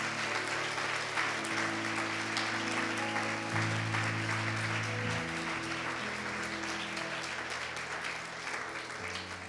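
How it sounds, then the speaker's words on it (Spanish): A church congregation gives the Lord strong applause at the close of a Spanish-language sermon, steady crowd clapping for nearly ten seconds over sustained organ or keyboard chords, fading slightly at the end. "Si le va a dar un aplauso al Señor,"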